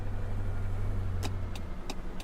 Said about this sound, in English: The engine hummed, a comforting sound, as I set off towards the next pickup.